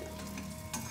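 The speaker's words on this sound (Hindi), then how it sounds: "इस तरीके से थोड़ी थोड़ी डालते हुए हम सारी गोंद को भून लेंगे।" Edible gum (gond) fries in a pan for millet-flour laddus, a close, continuous sizzle with a brief louder burst near the end.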